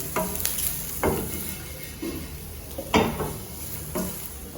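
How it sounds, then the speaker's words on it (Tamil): Steady crackling sizzle of spices frying in a pan for sundakkai podi, with occasional louder bursts as they are stirred, close and moderately loud, no voices. "பொரியிற சத்தம் கேட்கணும்"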